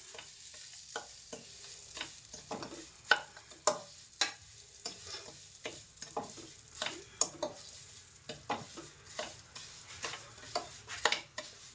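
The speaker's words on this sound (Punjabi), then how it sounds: "ਇਹਦੇ ਵਿੱਚ ਆਪਾਂ ਪਾ ਲੈਂਦੇ ਹਾਂ ਡਰਾਈ ਫਰੂਟ ਇਹਨਾਂ ਨੂੰ ਆਪਾਂ ਥੋੜਾ ਜਿਹਾ ਪਕਾ ਲੈਂਦੇ ਹਾਂ" Dry fruits cook with roasted semolina for jaggery halwa in a pan, quiet frying sizzle broken by frequent sharp scraping strokes of a spoon, irregular and close throughout.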